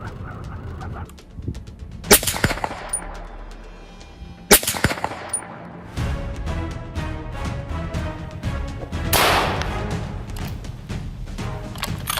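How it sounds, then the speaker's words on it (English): Sharp, loud gunshots crack out at intervals in a snowy valley amid a busy backdrop of rattling, chirping noise, with a sustained rushing burst near the end. "Boom! The shot tears through the air."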